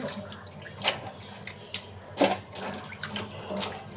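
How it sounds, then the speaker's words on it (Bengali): Pieces of cut bitter gourd and potato are rinsed under running tap water in a kitchen sink, with a steady trickle broken by a few soft splashes and clatters. "আর হচ্ছে যে করলা আলু দিয়ে কেটে নিছি, ধুয়ে নিতেছি"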